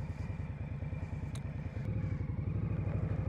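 A 2022 Indian Scout Bobber cruiser idles with a heavily muffled, quiet exhaust, giving a steady low, even engine pulse that stays close and continuous, with a brief light clatter partway through.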